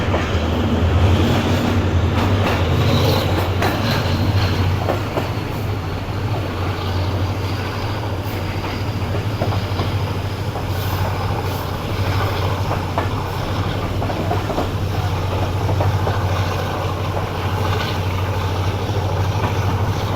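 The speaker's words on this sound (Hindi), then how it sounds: "एक्सीलेट करना शुरू कर दिया है ड्राइवर साहब ने" The Shalimar Express, riding just behind its locomotive, rumbles and builds speed in a steady, loud low roar with rattling carriage noise and occasional clanks, continuous throughout with no talk.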